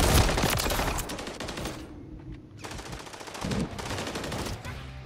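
Rapid automatic gunfire from a Call of Duty match crackles in dense bursts, briefly thinning mid-way before loud sustained volleys return.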